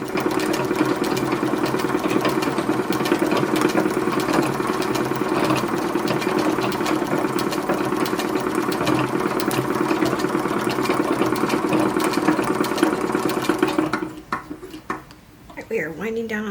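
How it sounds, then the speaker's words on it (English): Sewing machine stitching fabric ties into the front of an 1880s sunbonnet, running loud and steady for about fourteen seconds before stopping abruptly, leaving a brief quieter stretch at the end. "this is one of the ties that I'm stitching right into this front"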